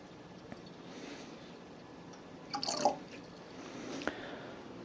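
Nutrient solution mixed from fertilizer, calcium nitrate and Epsom salt trickles into an indoor plant container holding a peat pot, a faint soft splash and drip rising briefly midway and again near the end, otherwise quiet.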